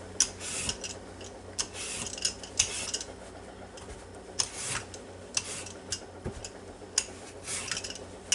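A big sweet potato scraped with a peeler in quick irregular strokes, close and fairly quiet, each stroke a short rasp with faint clicks between.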